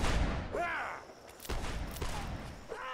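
Gunfire and cannon fire in a Mount and Blade Warband line battle, scattered sharp shots and booms under game noise, with a few short calls and bits of talk in between.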